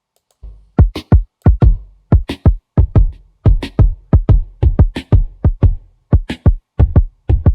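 A sampled drum beat is played back with its key shifted, delivering a loud, dry series of punchy kicks and snappy hits in a steady rhythmic pattern, with no talking over it.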